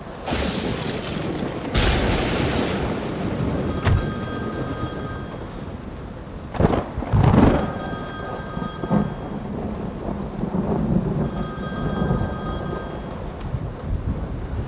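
A telephone rings three times in evenly spaced bursts over steady rain, with heavy thunder rumbles and booms in the background.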